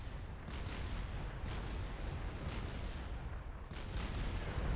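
Artillery installations fire in the Supreme Commander real-time strategy game, giving a series of distant, muffled booms at roughly one-second intervals over a continuous low rumble of battle, faint overall.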